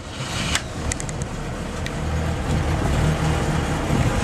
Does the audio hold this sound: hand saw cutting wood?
no